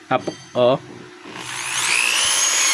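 A Stanley SDH600 1/2-inch hammer drill that switches modes on its own runs in drill-only mode. After a few short spoken words, a high motor whine starts up and builds steadily, loud and close.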